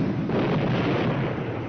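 Artillery fire from a World War II war film scene with the Third Army, heard as a dense, loud, sustained rumbling boom that fills the whole moment without voices.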